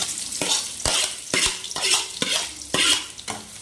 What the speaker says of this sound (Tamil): போட்டுட்டு நல்லா வெங்காயம் வந்து சுருள வணங்கணும்